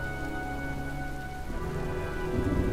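Steady rain falls in the Heavy Rain video game, a constant close patter with a low rumbling undertone and a faint sustained musical drone, swelling slightly toward the end.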